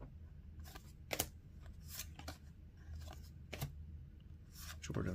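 Trading cards from a 2024 Donruss Elite football pack being flipped through one by one, with soft crisp flicks and slides at irregular intervals over a low background hum.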